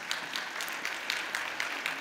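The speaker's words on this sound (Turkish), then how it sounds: "bir alkış istiyoruz lütfen" Faint, distant audience applause for the Turkish Trade Minister at the opening of a weaving atlas stage event: a steady, even patter of many hands clapping in a large room.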